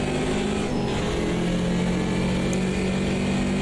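A BMW 2002 Turbo racing in the Automobilista 2 sim, its turbocharged engine droning hard under acceleration with a steady, loud, buzzy tone and no talk over it.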